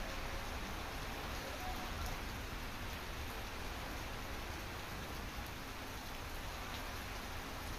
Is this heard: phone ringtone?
no